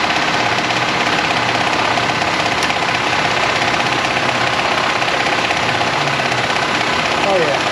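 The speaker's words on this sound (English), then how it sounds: "Does sound like some timing belt noise." A 2017 GMC Acadia engine idles in a repair shop with a steady, loud mechanical whir and faint rhythmic ticking from the timing belt area.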